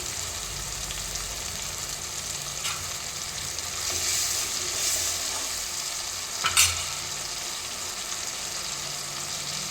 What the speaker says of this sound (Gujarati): તો આપણે આવી રીતે ટમેટાને પણ થોડીક વાર ચડવા દઈશું